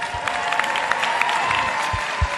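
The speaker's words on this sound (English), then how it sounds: "please give a big, warm round of applause to the president of the Miss Universe organization" Audience applause at the Miss Universe 2019 preliminary competition, a steady wash of clapping with a few crowd cheers rising through it, fairly close and continuous from start to finish.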